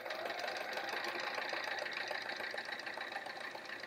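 A sewing machine runs steadily, stitching a curved seam on a fabric travel art folio, a continuous close whirring hum with no pauses and no voices.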